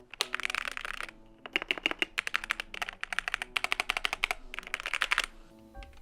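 Rapid bursts of clacky typing on a DrunkDeer A75 mechanical keyboard, stock, with crisp close keystrokes in quick runs separated by brief pauses and a slight spring ping.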